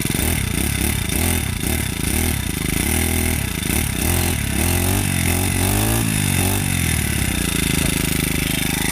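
A New West four-stroke lawn mower engine runs loud and close, its steady drone rising and falling as the throttle is blipped and revved through several sweeps.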